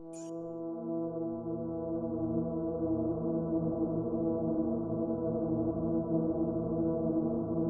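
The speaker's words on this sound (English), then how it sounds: "This first one here is the Spooky Graveyard Horn." Spooky Graveyard Horn custom loop from Fortnite, a deep, steady, droning horn blast rich in low tones that holds at an even volume for several seconds after a tiny blip at the start.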